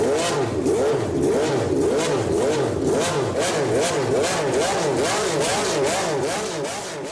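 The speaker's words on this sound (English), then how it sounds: "And let's have a listen to the car." A race car engine in the video game Gran Turismo 7 revs hard and continuously, pitch rising and falling in repeated surges, loud and close with no voices.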